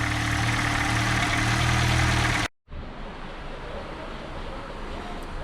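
A 1.2-litre petrol engine in an Opel Astra G idles steadily, cuts out briefly, then idles again at a slightly lower level, with no talking.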